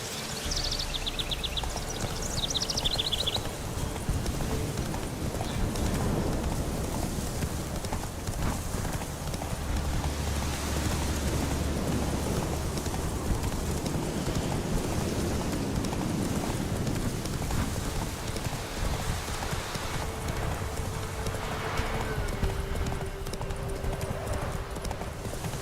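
Geralt's horse Roach gallops in The Witcher 3, hooves drumming in a steady clip-clop that runs the whole stretch under outdoor game ambience, with a brief neigh early on.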